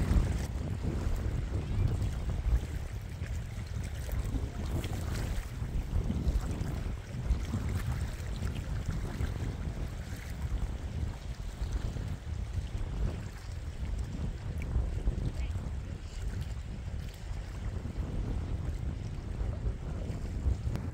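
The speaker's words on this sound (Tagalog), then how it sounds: "Wala, di tumigil yung hangin eh." Wind roars steadily across a lake during a fishing outing, a broad, unbroken rush buffeting the microphone with no clear voices.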